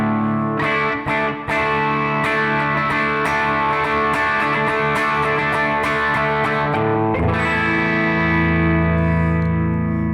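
An electric guitar on a humbucker pickup, played through a Wampler Brent Mason ReWired overdrive/distortion pedal, gives loud gritty picked notes and chords, ending on a long sustained chord ringing out.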